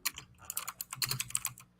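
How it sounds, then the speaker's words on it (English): Rapid clicking keystrokes on a clicky computer keyboard during a live online discussion, a quick uneven burst of sharp taps, close and clear with no voices over it. "I can hear somebody typing."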